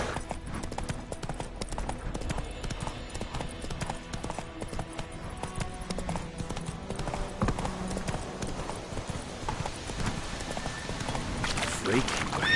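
Horse hooves clip-clop at a steady galloping rhythm in The Witcher 3, loud and continuous throughout, with game speech and in-game voices heard over the hoofbeats.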